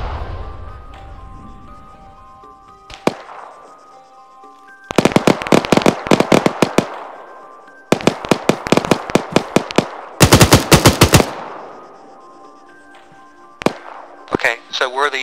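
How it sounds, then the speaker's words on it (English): Bursts of automatic and single-shot gunfire crackle through a military video game firefight, loud clustered volleys separated by short gaps, with a few isolated shots trailing at the end. "Shots coming from further right"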